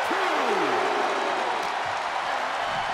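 A crowd roars and applauds steadily at a wrestling match in WWE 2K23, a dense, moderately loud wash, with a commentator's voice gliding above it.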